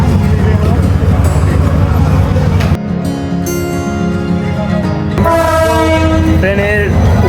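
Train pulling into Ibrahimabad station in Bangladesh, heard from up on its roof: a loud, continuous rumble with sustained horn-like tones, and people talking over it.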